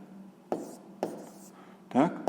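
A pen scratches letters onto paper for a sixth-grade geometry exercise, three short strokes spaced about half a second apart, close and fairly quiet, with a soft voice under the last one.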